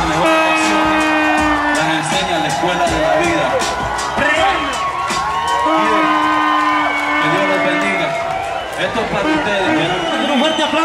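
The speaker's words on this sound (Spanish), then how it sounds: "un fuerte aplauso." A live rap show audience cheers, whoops and claps loudly throughout, with voices and crowd chatter mixed into the steady noise.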